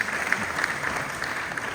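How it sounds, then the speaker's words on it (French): Audience clapping steadily at a cultural event, a dense even patter of applause with a few louder claps, moderately distant and fairly soft. "Oui, ça mérite des applaudissements."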